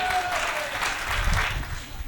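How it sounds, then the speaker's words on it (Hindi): An audience claps at a Hindi stand-up comedy show, a short dense burst of applause that holds steady for about two seconds. "ताली बजानी पड़ेगी"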